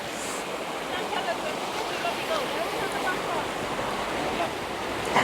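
A river near Lauterbrunnen, Switzerland rushes with a steady broad wash of flowing water, loud and continuous throughout, with a little wind buffeting on the microphone.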